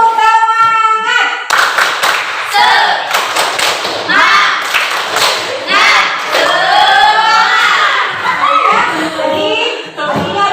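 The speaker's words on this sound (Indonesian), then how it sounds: "Tepuk semangat." A classroom of students performs a group spirit clap, rhythmic bursts of hand claps and thumps mixed with children's shouting voices, loud and close, after a short stretch of talk at the start.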